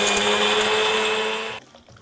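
Mixer grinder dry-grinding sesame and chili masala with no water, a loud steady whirring roar that runs continuously and then cuts off abruptly, leaving faint rattles.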